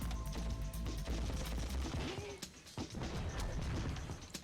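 Gunfire crackles in the 2002 game Ratchet & Clank on the desert planet Aridia, a dense, loud run of blasts and impacts over a continuous game mix.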